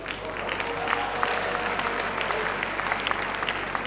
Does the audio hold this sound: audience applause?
yes